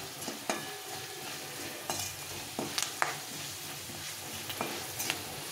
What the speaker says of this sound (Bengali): এটাকে ভালো করে ভেজে নিতে হবে কারি পাতাটাকে